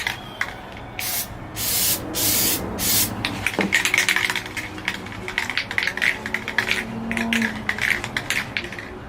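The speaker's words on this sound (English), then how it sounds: "I can start spraying." Several sharp hissing bursts from an aerosol can of Plasti Dip sprayed on a motorcycle helmet, followed by rapid scratchy rubbing and clicking sounds close by.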